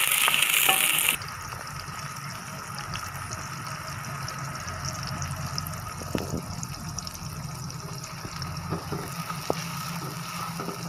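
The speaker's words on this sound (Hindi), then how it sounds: "कढ़ाई में पहले प्याज डाल दिए।" Chopped onions frying in a kadai for a tawa chicken masala, giving a steady, moderate sizzle and hiss throughout, with a brighter burst of noise in the first second and no talking.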